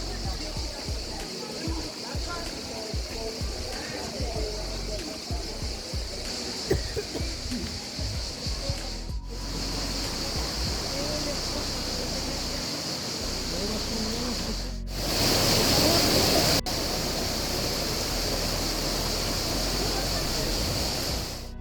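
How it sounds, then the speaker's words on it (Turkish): A waterfall in Şahinderesi Canyon roars as a steady broadband wash, a person speaks over it, and the sound grows louder as the speaker draws nearer. "Ve işte şelalenin bulunduğu noktaya da ulaşmış olduk."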